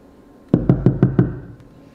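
Five firm knocks land on a wooden door in an even, quick rhythm, loud and close, followed by a fainter sixth tap, with no speech over them.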